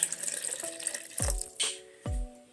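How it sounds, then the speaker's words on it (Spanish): Water poured into a blender jar while making oat drink with vanilla and cinnamon, splashing in a few short bursts, close and fairly quiet. "Y le vamos a añadir lo que son dos vasos de agua."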